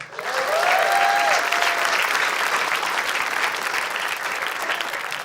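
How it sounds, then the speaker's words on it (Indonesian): Dense audience applause fills a stand-up comedy show, a loud continuous wash of many hands with a brief whoop or whistle near the start, holding steady for over five seconds. "Tepuk tangan dulu boleh?"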